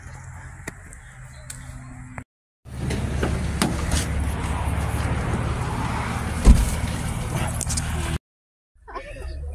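Car interior while driving to a shopping trip, a steady low engine and road rumble with occasional bumps and clicks, a brief break in the middle, moderately loud throughout with no talking.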